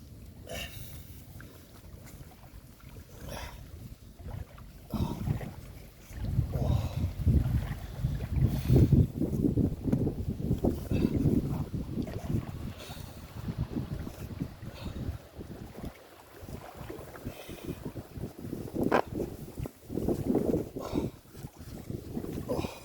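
Cold, piercing wind gusting across an open winter swimming spot, buffeting the microphone in a steady rumbling roar that swells louder through the middle and again near the end, with no talk.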